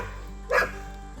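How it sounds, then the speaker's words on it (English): A single short bark from a dog playing with a child in a backyard pool, a bit distant, rising briefly over a steady low background hum. "Sorry, my dog is playing with my son in the pool."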